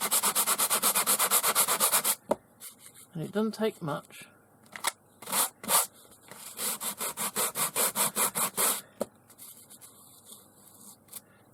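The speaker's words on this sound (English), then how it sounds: "I'm going to use a sanding block." A sanding block rasps over sharp edges to smooth them. It makes rapid rhythmic back-and-forth strokes, a dense run at first, then a pause and further bursts of quicker rubbing, with a person talking briefly in between.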